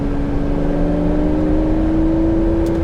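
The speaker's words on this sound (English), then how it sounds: "Oh, the engine is so silky, creamy smooth." Ferrari flat-12 engine cruising on a British road, heard from inside the car as a steady, loud, smooth hum with even tones, holding constant with no throttle changes.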